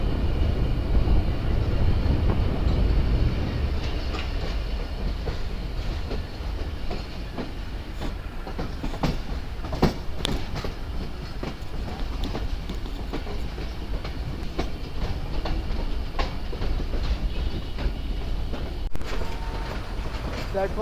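The Mohen Jo Daro Express rolls along the rails through the Sindh countryside, a continuous loud rumble with repeated clickety-clack wheel beats heard from on board for the whole stretch.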